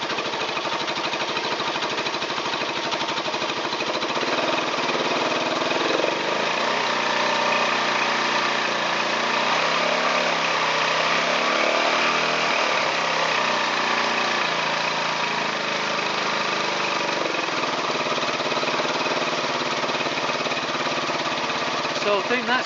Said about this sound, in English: We'll just try a few revs.